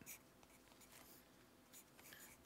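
Characters written by hand with a pen on paper, faint soft scratching strokes in short bursts, quiet and close, ending in a brief bump.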